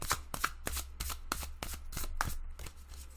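Cards are shuffled over and over, a quick run of crisp riffling bursts at a steady rhythm, close up and quiet, with no talking.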